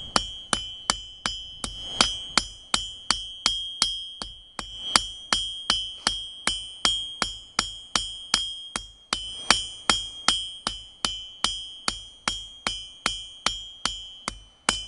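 Steady, rhythmic hammer blows on a 3/8 steel rod being tapered to a point, each strike ringing with a bright metallic ding, about two strikes per second, loud and close with no talking.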